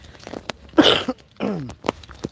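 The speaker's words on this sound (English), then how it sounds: "I'm sorry if I'm coughing" A few short, rough coughs, close and moderately loud, separated by brief pauses and soft breathing.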